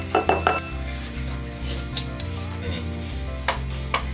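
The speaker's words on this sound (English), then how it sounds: "Beat the crap out of the limes." Limes and sugar are muddled in a glass for a caipirinha: a quick cluster of hard knocks and clinks, then scattered lighter taps over a steady musical background.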